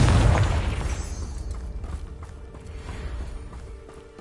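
A Confringo blasting spell detonates in Hogwarts Legacy with a loud, deep boom at the start, its rumble fading over the following seconds.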